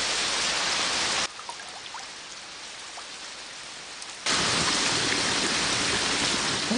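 Steady heavy rain pours in a Shinchan cartoon scene, loud and close, dropping to a softer, muffled patter for a few seconds in the middle before returning at full strength, with no talking.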